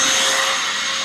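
A loud, steady broadband roar starts as a vacuum is switched on for an exhaust leak test on a BMW 335i with a built N54 engine, continuous and close with no voices.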